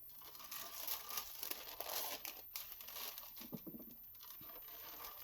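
Wax paper reused for melted-crayon collage paper is crumpled and crinkled by hand, a dry crackling patter of small bursts that rises and falls over several seconds, fairly close and with no talking.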